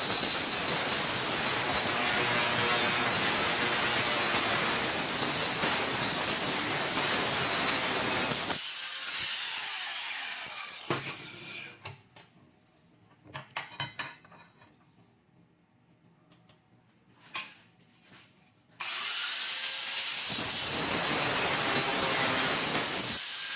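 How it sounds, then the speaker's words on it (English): An angle grinder with a cutting wheel slices through metal tube for an ice fishing auger rack on an ATV, a loud sustained shriek that stops midway, leaves a few clanks and handling noises, then resumes at full intensity. "make a clean cut with our cutting wheel and our grinder here"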